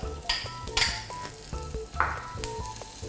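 Lemongrass and galangal dry-roast in a pan, with a close, steady sizzle broken by scraping stirs and light clinks of a utensil against the pan, and no talking.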